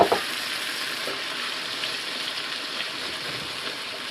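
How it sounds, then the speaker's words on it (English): Mushrooms and water cooking in a pot for a Sichuan chicken hot pot, giving a steady broadband sizzling, bubbling hiss that begins with a brief clatter and then holds even and close without any speech. "I'm just going to add the mushrooms and the water. Let that cook just a little bit"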